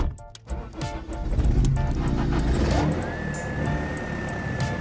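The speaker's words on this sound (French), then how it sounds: "Pour faire vrombir sa BMW" A BMW car engine revs on the road, a steady roar of traffic-like engine noise with a rising whine toward the end, close and fairly loud throughout.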